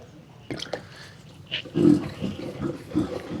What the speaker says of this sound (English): See that gurgling? That sounds like a pig. I think that's that vent trap.